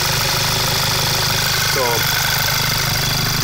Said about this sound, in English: The engine sounds a bit more deep.